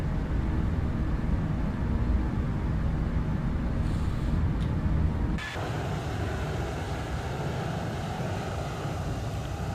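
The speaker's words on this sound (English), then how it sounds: "We are running the IAE engines. They are my favorite sounding as well." Steady broadband roar of IAE engines on a Toliss A321 in a flight simulator, a constant loud drone that shifts slightly in tone partway through, with no talk.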